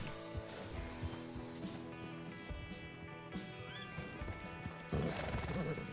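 A horse in the RedM western roleplay game whinnies over the clip-clop of hooves, set against game ambience with a rising, strained neigh near the end; the sound is soft overall.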